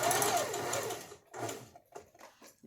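Sewing machine running as fabric is stitched, a fairly close whirring burst that stops, restarts briefly, then tapers into a few short, quieter stitches.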